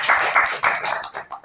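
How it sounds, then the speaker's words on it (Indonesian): Audience applause at a school festival event in a high school, a short burst of scattered hand claps that thins out and fades within about a second and a half. "Tepuk tangan dulu buat kalian semua."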